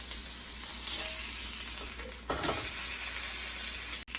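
A cheeseburger meat patty sizzles steadily in a hot pan, a constant close hiss of frying fat with a brief scrape or stir midway.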